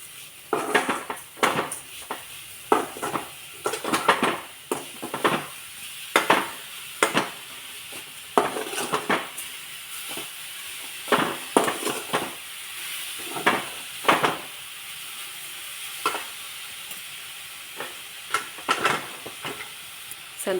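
Carrot halwa cooking in a pan with sugar melting, stirred in a steady run of clattering spoon scrapes against the metal over a soft bubbling sizzle.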